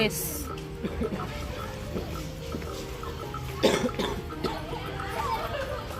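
A child coughs once or twice at close range amid ongoing household chatter and background voices.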